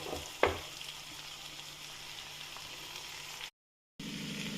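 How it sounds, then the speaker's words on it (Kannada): Chopped cabbage goes into a pan of garlic, coriander and garam masala frying in oil, a soft steady sizzle with a brief clunk near the start, faint and close, then a short dropout. "ಈಗ ನಾನೇನು ಮಾಡ್ತಿದ್ದೀನಿ, ಡೈರೆಕ್ಟ್ ಕೋಸ್ಗಡ್ಡೆ ಹಾಕ್ತಾಯಿದ್ದೀನಿ"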